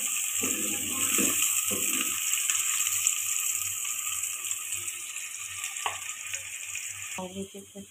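Chopped onion frying in oil for haleem, a steady bright sizzle crackling close up throughout, with occasional stirring scrapes and a low hum underneath, easing near the end.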